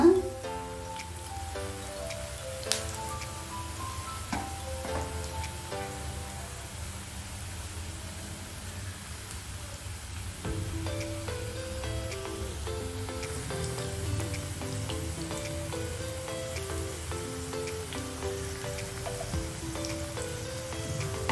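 Mutton kola urundai, spiced minced-meat balls, frying in hot oil with a steady, broad crackling hiss that runs the whole time, with some background music laid over the top.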